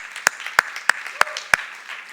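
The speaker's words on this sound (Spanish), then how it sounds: "yo le daría un aplauso al Señor por la grandeza de su poder y por la perfección." Church congregation applauding during a worship service, a short run of sharp, evenly spaced claps, five distinct strikes, fairly close.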